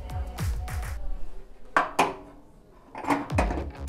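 Glasses are set down one after another inside a microwave while making a pink Zubrowka vodka cocktail with floating island, giving a few close clinks and knocks with short pauses between them.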